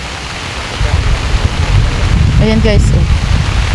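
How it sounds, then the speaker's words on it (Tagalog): Rain falls on a farm field planted with eggplant, a steady hiss thickened by gusty rumble, while someone speaks briefly over it. "Lumalakas ang ulan din sa bukid."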